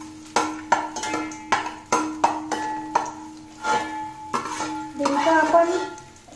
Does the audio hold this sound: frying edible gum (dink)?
yes